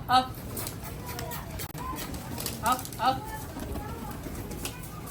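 Pigeons at a Sunday birds market coo in soft, repeated throaty calls close by, mixed with rustling and someone talking over them.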